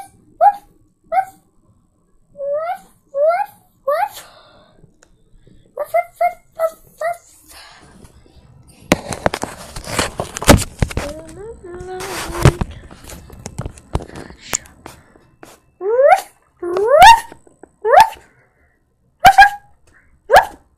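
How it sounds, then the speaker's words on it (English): Puppy yips, whimpers and short barks come in quick bursts, with a noisier stretch of scuffling and mixed yelps in the middle before the high squeaky yips return, close and fairly loud. "Puppy sounds."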